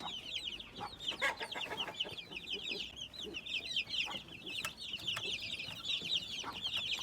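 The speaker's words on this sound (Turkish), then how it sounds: "Yani bütün cins tavukların birleşmesinden olan civcivlerimiz burada." A crowd of chicks from mixed chicken breeds peeps and chirps constantly at close range, a dense, overlapping chatter with no talking.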